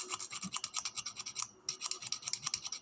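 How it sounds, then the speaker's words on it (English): A dull blade scrapes old paint off a BMX spoke in quick, rhythmic rasping strokes, about a dozen close, faint scratches with one short pause midway. "I scrape it first with a super dull blade"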